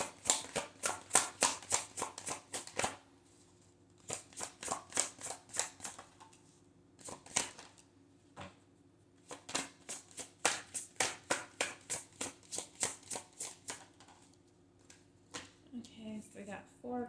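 Tarot cards shuffled during a love reading, bursts of rapid papery riffling clicks in repeated runs with short pauses between, close and fairly quiet, a voice briefly near the end.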